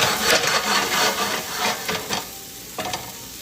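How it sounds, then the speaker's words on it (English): Onions fry in a pan while being turned, a close sizzle mixed with scraping and shuffling strokes that fade after a couple of seconds, then a brief final scrape. "I'm just turning these onions."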